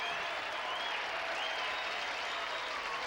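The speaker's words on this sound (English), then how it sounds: "sometimes the audiences start clapping spontaneously along with the applause" Studio audience applause fills a 1978 Card Sharks game show taping, a steady, dense wash of clapping held at even loudness throughout with no voices over it.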